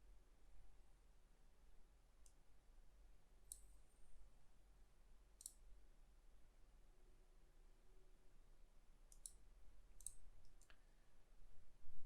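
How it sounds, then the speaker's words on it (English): Faint, sparse key clicks tap out irregularly against a quiet hiss, a few isolated presses scattered across the stretch. "someone's typing."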